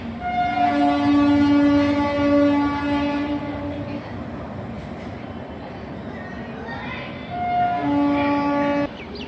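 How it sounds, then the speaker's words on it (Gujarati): A train passing beside a railway station next to an ashram in Haridwar, its horn sounding in long sustained blasts near the start and again near the end, over a loud rumbling roll of wheels and cars. "તો ત્યાં ટ્રેન જઈ રહી છે."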